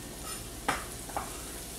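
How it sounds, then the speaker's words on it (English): Peppers going into a hot pan for breakfast pot pies, with a low steady sizzle and two brief stirring scrapes standing out from the frying hiss. "We're going to add in our pepper."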